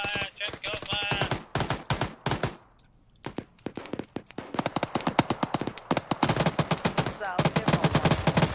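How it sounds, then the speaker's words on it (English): Rapid bursts of suppressive gunfire from the military video game Arma 3 rattle in dense volleys, pausing briefly before resuming even louder and more continuous. "I'm gonna give this guy a suppressive fire order."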